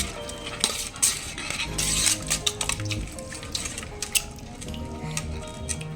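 A spoon stirs mango chunda sugar syrup in a metal pot, giving irregular clinks and scrapes against the sides, loud and close, with short pauses between strokes.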